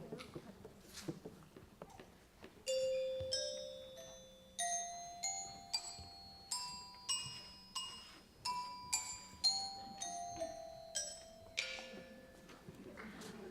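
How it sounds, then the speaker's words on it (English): Kindergarten children at a musical ring hand bells one at a time up a scale, each clear, ringing tone sounding alone with a few seconds between strikes over faint room murmur. "Reese, would you play your bell, please?"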